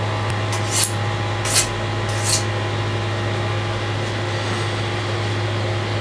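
A kitchen knife is drawn along a sharpening steel rod, making three quick, evenly spaced scraping swipes over a steady low hum, with nothing after them.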